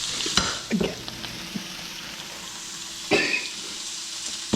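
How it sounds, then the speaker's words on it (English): Buttered pork chops sear in a skillet, giving a constant close sizzle that flares louder when they land in the pan near the start and again about three seconds in, with no one talking. "we're going to go ahead and throw them butter side down on this skillet and see how the sear comes out like that"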